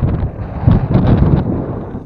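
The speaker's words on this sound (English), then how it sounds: "that wind's firing up here" Strong wind buffets an outdoor microphone during a test flight of a YLRC S138 brushless optical-flow drone, a loud continuous low rumble with gusty surges and no speech.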